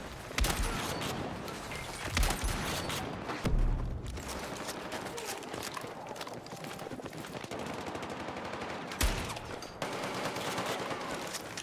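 A shotgun firing in the Battlefield 6 video game: a few heavy, booming blasts stand out at irregular intervals above continuous rattling gunfire and battlefield noise.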